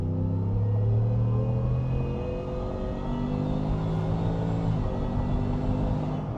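A 2025 Ford F-150 Shelby Super Snake pickup accelerating hard, its engine note climbing through steady harmonic tones with a low rumble, close and loud from inside the cabin, with a brief shift-like dip near the end.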